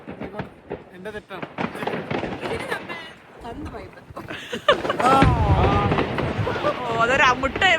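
New Year fireworks burst and crackle at a distance in repeated pops, with a louder stretch of dense bangs, while people talk throughout.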